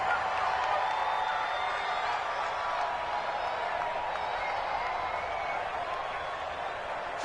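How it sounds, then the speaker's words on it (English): A football video game crowd on PS4 roars steadily and swells with cheering and whoops, a constant dense wash of noise that holds throughout with a slight fade toward the end. "the crowd getting into it as we come up on a big 3rd down"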